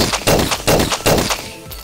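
Gunfire in a zombie shooter game, three loud bursts of rapid shots spaced about half a second apart, each ringing out before a quieter tail with no talking.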